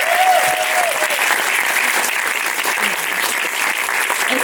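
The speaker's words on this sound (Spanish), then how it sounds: "Un aplauso para Silvia." Audience applauding at an evening tribute event, a steady, dense wash of clapping from a sizeable crowd that holds evenly throughout with no talking over it.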